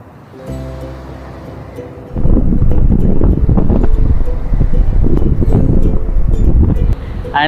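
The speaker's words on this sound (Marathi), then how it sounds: "वाऱ्याचा वेग एवढा होता की असं वाटत होतं की वारा नसानसांमध्ये भिनत चाललाय" Strong wind blows across the Tondavali seashore on the Konkan coast beside the Arabian Sea, a close, roaring gust buffeting the microphone and swelling to a loud, steady rush that holds to the end.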